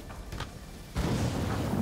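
Firecrackers go off in the video game Ghost of Tsushima. After a quiet stretch, a sudden burst breaks into sustained crackling noise, fairly faint and alone.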